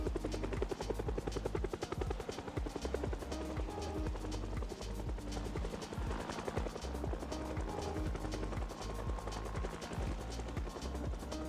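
A helicopter circles overhead in the Project Zomboid video game, its steady, rapid rotor thump continuing throughout at moderate loudness with dense low chopping pulses.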